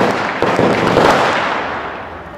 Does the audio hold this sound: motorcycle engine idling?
no